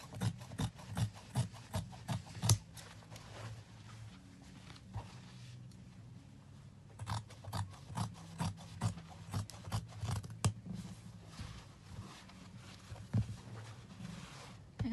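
Scissors cutting out a paper sleeve pattern, a quiet close-up series of rhythmic snips and rasping strokes in two bursts separated by a brief pause.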